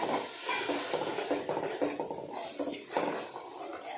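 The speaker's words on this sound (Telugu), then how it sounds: "మొత్తం ఇవన్నీ ఒక్కసారి ఇలా కలిపేసి" A spoon scrapes and stirs an eggplant curry in a pan with quick, rhythmic strokes, close and fairly soft, over a faint sizzle.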